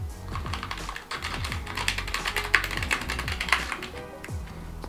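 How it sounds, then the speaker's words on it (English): Rapid typing on an NPET K10 wired RGB gaming keyboard, a dense run of close, crisp key clicks and taps that quickens and slows with no talking over it. "when you guys test out the keyboard on here, it should work"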